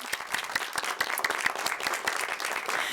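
A lecture audience applauds after a talk on plants, soil biota and climate change, with many hands clapping in a steady, fairly dense patter at moderate loudness.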